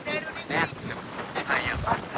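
Gusty wind buffets the microphone in uneven surges while seawater sloshes around and into a fishing boat at sea; a voice is faintly present.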